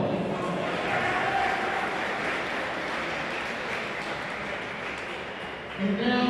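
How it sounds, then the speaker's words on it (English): Applause at a boys' high school swimming championship awards ceremony, a steady wash of crowd clapping in a large echoing natatorium, sustained and moderately loud, with a slight swell near the end. "Give a round of applause."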